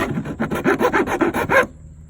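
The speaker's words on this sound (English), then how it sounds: "Used a file here to kind of clean up the hole here." Metal hand file rasping back and forth to clean up a cut hole while fitting factory fog lights to a 1997–2001 Jeep Cherokee XJ: about eight steady rhythmic strokes, close and fairly loud, ending abruptly.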